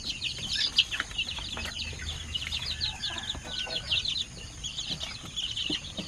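Chickens of an oriental breed on a farm, a busy flock with dense overlapping chirps and clucks alongside occasional wing flaps, fairly close and continuous, with no talk.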